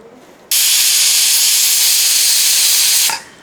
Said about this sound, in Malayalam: ഒരു മൂന്ന് വിസിലെങ്കിലും നല്ലപോലെ അടിക്കട്ടെ